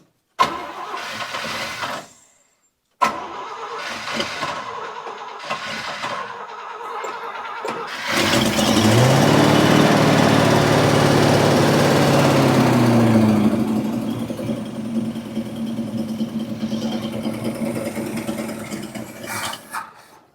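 A 1973 International Scout cranks in several bursts with short pauses, then catches around eight seconds and roars loudly before settling into a steady, rough idle with no talking.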